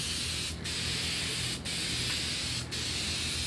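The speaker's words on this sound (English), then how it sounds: "I just do a light spray" Continuous close hiss of an aerosol can spraying clear wood finish, with three short breaks as the nozzle is released and pressed again.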